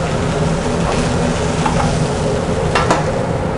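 Seared veal shanks are moved from a hot pan into a roasting pan, a continuous close sizzle of frying fat with a few soft scraping clinks as the meat is shifted.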